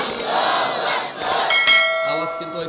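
A large crowd at an outdoor Bangla Islamic sermon gathering roars the takbir in response, two swelling shouted waves a second or so long, followed by ringing tonal voices fading out.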